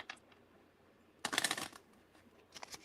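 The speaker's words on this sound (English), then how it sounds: "Ooh, you're a good shuffler." A deck of playing cards is shuffled in a burst of crisp riffling flutter near the middle, with a shorter riffle at the end and quiet room tone between.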